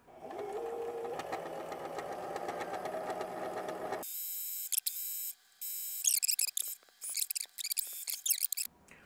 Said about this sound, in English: drop your pressure foot again. Make sure it's lined up on 3/8, that's crucial, and you start sewing again